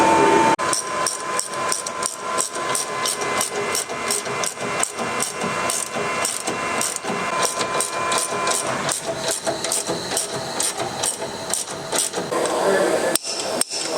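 Suspension kit bolted onto a Ford Ranger Wildtrak in a workshop: a rapid, steady run of sharp metallic hammering or impact-tool bursts, close and loud, continuing throughout with faint background noise.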